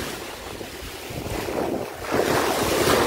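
Sea waves wash ashore at Kribi beach, a broad rushing surf that swells louder toward the end, with wind buffeting the microphone throughout.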